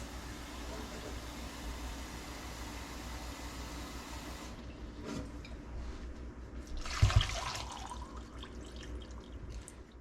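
Water pours steadily into a blender holding cauliflower, then a short splash and gurgle follow before the flow quietens.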